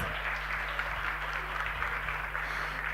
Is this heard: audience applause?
yes